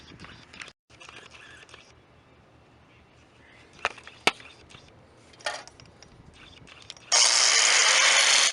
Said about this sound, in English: I got my grinder here, and I'm going to cut that like 1/4 of an inch off here